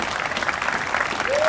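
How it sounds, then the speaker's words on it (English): Outdoor audience applause at a Pride flag raising ceremony, a brief burst of steady crowd clapping with a faint voice emerging at the end. "Let's give a round of applause to the Quincy Choral Society."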